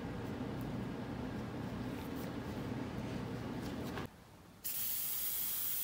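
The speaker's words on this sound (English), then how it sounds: "start to shoot the paint" DuraCoat paint sprays steadily from a spray gun onto 6.5 Creedmoor rifles as a loud, continuous hiss that stops briefly and then starts again.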